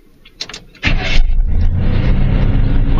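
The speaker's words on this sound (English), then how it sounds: "let's shut it off and see if it'll start right back up" Old, rusty pickup truck engine cranking and catching after a swap from a Quadrajet to an Edelbrock carburetor, then settling into a loud, steady rumbling idle close by, with no talk.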